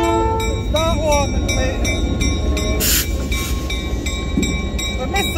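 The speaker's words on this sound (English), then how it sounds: "I missed the train, Clive." A train rolls slowly past at close range, with a steady rumble, rhythmic wheel clatter and high metallic squeals over a continuous noisy bed, with no voices.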